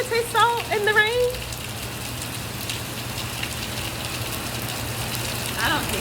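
Steady Caribbean rainstorm with a continuous hiss of falling rain and a low engine-like hum beneath, while a voice speaks briefly at the start and again near the end.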